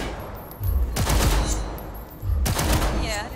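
Pistol fire at a tactical target practice range in Cyberpunk 2077, using a small yellow pistol: two bursts of sharp shots about two seconds apart, with an electronic chirp at the end.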